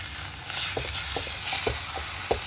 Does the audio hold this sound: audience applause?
no